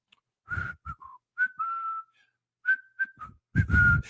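A person whistles a short tune alone, clear, close and moderately loud, in separate phrases with a few held notes and brief pauses, and no talking over it.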